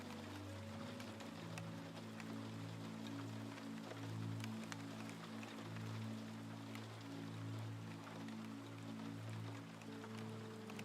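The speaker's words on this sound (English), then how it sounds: "Rain falls beyond them in silver blue lines, drifting past the tower walls and disappearing into darkness below." Rain falls outside a clocktower as a soft, steady hiss with faint scattered drops, layered over a low, sustained droning hum.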